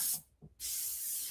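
An airbrush sprays paint on zombie artwork with a loud, steady hiss that cuts out briefly partway through and then resumes at full strength.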